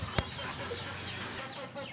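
Domestic chickens cluck softly and faintly, one brief sharp sound near the start and low fowl murmurs under a quiet background.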